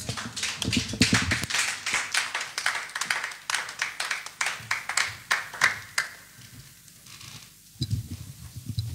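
A church congregation clapping to acclaim the Lord: dense, rapid hand claps from many people in a hall, loud at first and then thinning to scattered claps before a brief swell returns.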